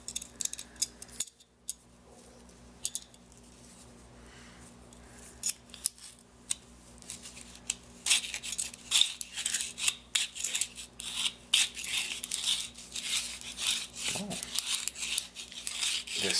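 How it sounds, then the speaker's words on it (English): A peeler scraping over clay with repeated short rasping strokes, quiet at first and then busier and louder in the second half, heard close up with no talk. "peeler works in both directions"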